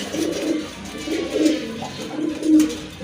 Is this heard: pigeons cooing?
yes